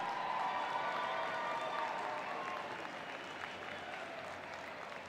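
Spectators at the Special Olympics Wyoming Summer Games in Gillette's CAM-PLEX arena applaud the athletes with a broad, continuous wash of clapping from a large crowd that eases slightly toward the end.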